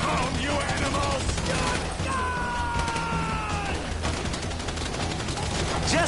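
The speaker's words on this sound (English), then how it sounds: "Lay down, cover fire!" Dense, continuous video game gunfire during a street shootout near an overpass, rapid bursts and crashing impacts layered with music and effects, loud and close throughout.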